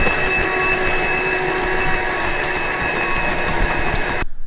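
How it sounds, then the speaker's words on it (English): Vacuum cleaning the concave linkage of a New Holland CR combine, a steady loud whining suction drone with hiss, continuous and close, cutting off abruptly at the end. "We're going to get it vacuumed out, nice and clean."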